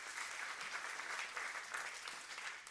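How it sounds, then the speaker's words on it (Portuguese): Applause from a church congregation, a steady wash of many hands clapping for a few seconds, with no talk over it. "Dá uma salva de palmas."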